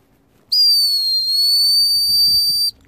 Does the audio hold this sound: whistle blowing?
yes